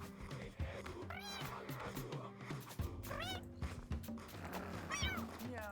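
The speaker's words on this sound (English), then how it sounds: "Yeah, bring our cats indoors." Cats in the video game Mewgenics meow repeatedly, three or four drawn-out wavering calls spaced a second or so apart, heard over steady game music.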